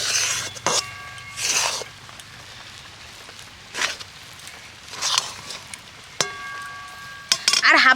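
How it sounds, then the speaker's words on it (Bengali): Wheat flour being stirred in a bowl, with a few separate scraping bursts and light clinks of the utensil against the bowl, close and fairly quiet, with lulls between strokes. "প্রথমে আমি এক বাটি আটা দিয়ে একটু নেড়ে দেখে নিই"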